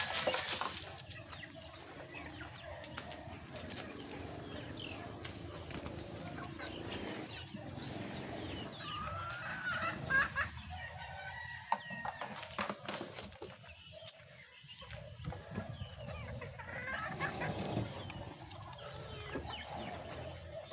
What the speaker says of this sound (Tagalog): Yan po ang ating mga manok.